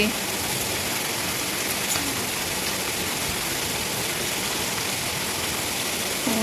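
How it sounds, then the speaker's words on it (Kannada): Heavy rain pours down steadily, a dense, constant hiss of water across the whole stretch, with no voices. "ಎಷ್ಟು ಜೋರಾಗಿ ಮಳೆ ಬರ್ತಾ ಇದೆ"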